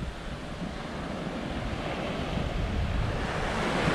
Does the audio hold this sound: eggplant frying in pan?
no